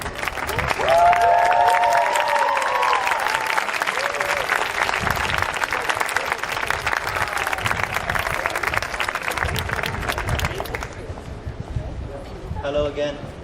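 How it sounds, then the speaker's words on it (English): Sustained audience applause fills a hall at the 2018 University of Nicosia Medical School white coat ceremony, a dense, steady wash of many hands that fades out near the end as a voice begins speaking. "60 more claps to go"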